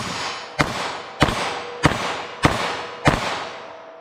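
Five sharp gunshots from a short-barrel .22 Magnum revolver, fired at an even pace about half a second apart, each loud crack followed by a short echoing decay.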